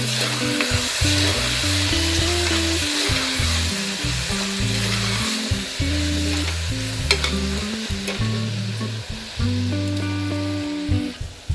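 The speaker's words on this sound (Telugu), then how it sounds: "నువ్వుల పొడి వేస్తున్నా, కొంచెం ధనియా పౌడర్, కొంచెం ఎండు కొబ్బరి పౌడర్ అండి. పెట్టి కలిపిస్తా." Sesame powder, coriander powder and dry coconut powder being stirred into masala frying in a pan, with a steady close sizzle and continuous scraping of the spoon throughout, no voices.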